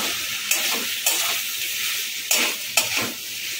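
Boiled banana flower fries with spices and a split green chilli in a pan: a constant close sizzle broken by several sharp spatula scrapes and stirs at irregular intervals, with no speech.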